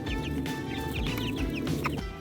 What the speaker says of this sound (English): Chickens are happy, they're eating their feed